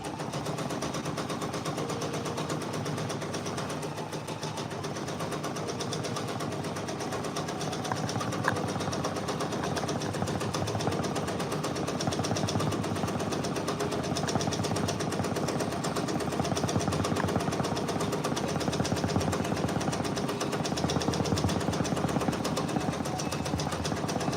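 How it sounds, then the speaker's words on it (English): Embroidery machine stitching out a Drake patch, a continuous fast mechanical rattle of rapid needle strokes holding steady and close for the whole stretch, with no pauses. "We are stitching out a Drake patch"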